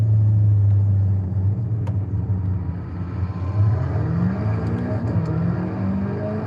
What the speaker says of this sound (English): This thing sounds like a Mustang.